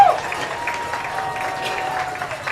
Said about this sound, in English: And the crowd gets noisy at Cardinals Stadium.